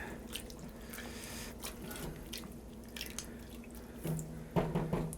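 Shrimp and scallops are stirred into a simmering shellfish chowder, giving soft, wet sloshing and dripping sounds over a low steady hum, quiet and close, with a slightly louder stir near the end.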